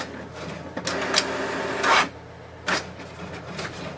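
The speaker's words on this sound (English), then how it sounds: "click on the print button and wait for the printer." An HP DeskJet 2652 inkjet printer runs a print job, whirring and rasping mechanically with several short bursts of carriage and paper-feed noise between quieter steady hum, close and moderately loud.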